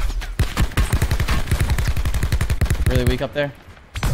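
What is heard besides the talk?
gunfire in the video game Call of Duty: Blackout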